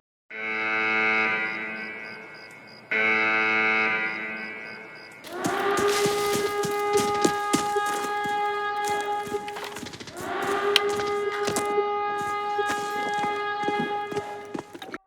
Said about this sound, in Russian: на Арсенале будет сирена, такая же, как есть в Таркове на резерве